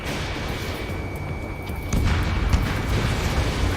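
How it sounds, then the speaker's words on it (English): A dense, rumbling wash of distant gunfire and booming in Ace Combat 7, with a steady jet roar that swells louder about halfway through and stays heavy to the end. "Gunfire and the roar of jets echoing through the streets."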